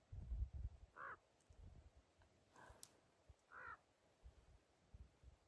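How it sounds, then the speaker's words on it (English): A raven caws outdoors three times at spaced intervals, hoarse calls at moderate distance, with low rumbling handling noise and faint background between them. "Raven's excited too."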